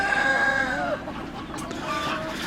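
Orpington hens, large fluffy chickens on a farm, cluck and call in a steady rapid flurry close by, with several overlapping bird voices and no talk.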